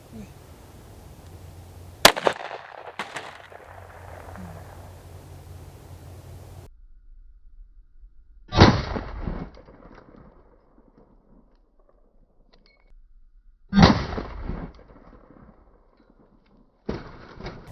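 Several sharp gunshots from a firearm fired at grocery store items tested as makeshift body armor, outdoors: a loud crack near the start, then two more spaced blasts with decaying tails and a final shot at the end.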